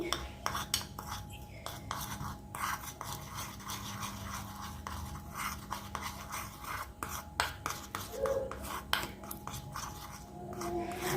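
A spoon mixes a homemade face mask of golden mask powder and instant coffee in a small bowl, giving rapid, irregular scraping and clinking strokes close up with no voices.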